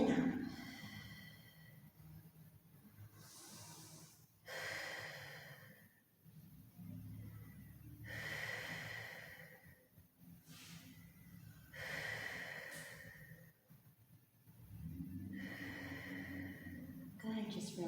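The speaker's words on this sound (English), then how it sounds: "Breathing in and out." Slow, deliberate breaths in and out during a yoga and Pilates class, audible nasal inhales and long exhales repeating every few seconds, close and fairly soft, with an instructor's voice speaking between them.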